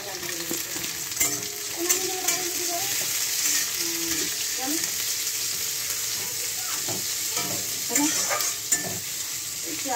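Onion, cumin seeds and mustard seeds sizzle steadily in hot oil for a saga bhaja, with irregular stirring scrapes and small pops over the constant hiss and a faint voice in the background.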